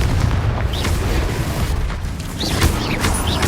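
Spell explosions from Confringo being cast in the video game Hogwarts Legacy, several booming blasts with bursts over a steady rumbling game background, fairly loud throughout.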